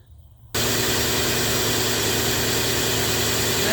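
A 2005 Cadillac Deville with a Northstar engine starts abruptly after a short quiet moment, then idles with a loud, steady, close hum and whir after water pump belt and tensioner work.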